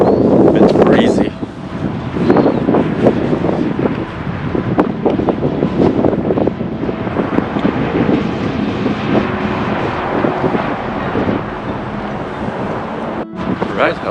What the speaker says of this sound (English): even though it's a bit breezy